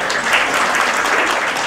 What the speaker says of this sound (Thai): ขอเสียงปรบมือต้อนรับวิทยากรด้วยค่ะ